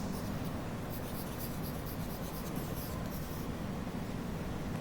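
Pen writing number names on paper, a continuous close scratching and rubbing that lasts the whole clip with no pauses and no voices.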